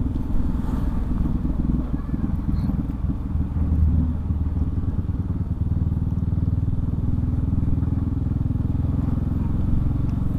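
Yamaha Xmax 250 scooter (2018) riding downhill, its engine a low, smooth, steady drone with faint clatter underneath and wind rumble throughout.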